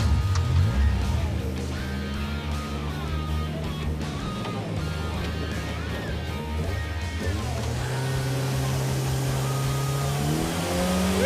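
A Nash Metropolitan's small engine revs hard and pulls away, the note climbing through gear changes and holding loud and close throughout, with no talking.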